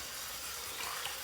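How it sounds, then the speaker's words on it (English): Cold water runs from a tap into a bathroom sink, a soft, steady splashing flow. "we're using cold water in the bowl and from the tap."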